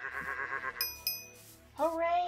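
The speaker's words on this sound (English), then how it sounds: "Hello, sheep." Sheep in Minecraft bleat in a short wavering call, then a chime-like jingle rings twice and a second rising bleat follows, all fairly quiet with a voice nearby.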